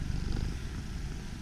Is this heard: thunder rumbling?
no